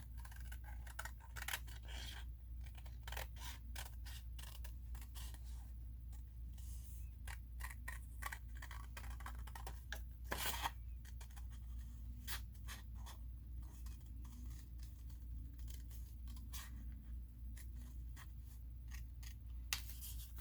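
Scissors snipping through paper while cutting out paper dolls: repeated short, crisp snips spread across a steady, quiet room background, close by and with no talking.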